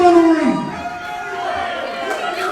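A wrestling crowd cheers and shouts encouragement in a loud, sustained roar, with a voice rising over it at the start.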